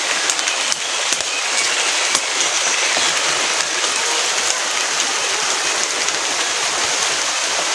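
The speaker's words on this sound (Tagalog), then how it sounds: "Inabot kami ng ulan." Steady heavy rain falling outdoors on a rural farm where a carabao rests, a loud continuous wash of drops with no pauses.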